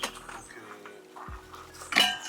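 Dishes and cutlery clink and clatter in a small van kitchen, with quiet handling noises and a sharper rattle of metal and crockery near the end, close by and without talk.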